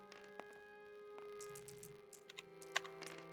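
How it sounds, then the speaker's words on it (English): Keys clatter on a loud, old computer keyboard in quick irregular bursts over a steady electronic drone, close and moderately loud, with no voices. "Ancient loud keyboard"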